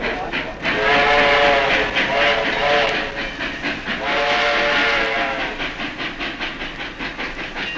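A steam train chugs along with a rhythmic puffing beat while its whistle sounds twice in long, loud blasts.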